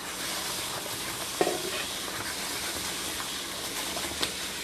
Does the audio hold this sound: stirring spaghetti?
yes